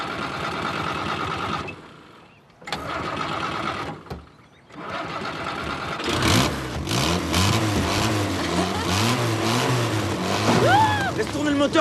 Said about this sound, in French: Laisse tourner le moteur